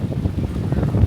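Gusty wind rushing across a microphone at Coco Cay beach, a low rumbling buffet that swells and dips in quick pulses, with water nearby.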